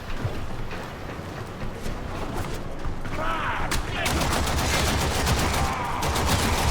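Rapid gunfire in the game Warframe, a dense fusillade of sharp repeated shots that grows busier and louder in the second half, loud and close with no speech.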